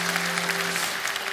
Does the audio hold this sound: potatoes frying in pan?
no